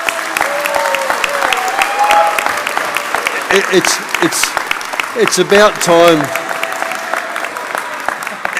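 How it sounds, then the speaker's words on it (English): Audience applause for a university Vice-Chancellor at a graduation ceremony, a full round of clapping with a voice talking over it partway through. "Let's give him a big clap,"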